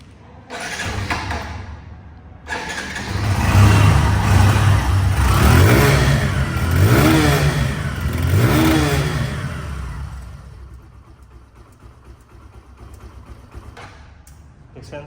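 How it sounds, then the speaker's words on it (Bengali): A second-hand Hero Ignitor 125cc motorcycle with about 900 km on it idles and then revs up several times in rising, falling sweeps. The engine is close and loud, then settles back toward a lower idle. "সাউন্ডটা এই বাইকটের যে সাউন্ড ইঞ্জিনের সাউন্ড ফ্রি হয় নাই এত নিখুঁত সাউন্ড"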